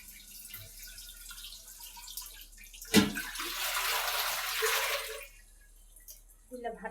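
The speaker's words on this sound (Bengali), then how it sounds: "হাতটা ধুয়ে একটু পানি দেব।" Running water splashes during hand washing in a home kitchen, a steady broadband rush of a few seconds starting after a sharp knock, then stopping, with faint sounds around it.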